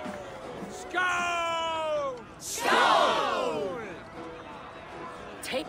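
In the video game Assassin's Creed Valhalla, a Viking battle cheer from a crowd rises as a loud, swelling chorus of yells and bellows after a horn-like tone, then fades beneath the game's ambience.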